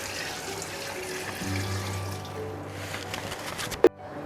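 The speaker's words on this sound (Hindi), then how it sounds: "मैं अब इस पे पानी ऐड कर दूँगी।" Water is poured into a pressure cooker already holding trotters, a steady splashing stream that runs for a few seconds before stopping with a sharp knock.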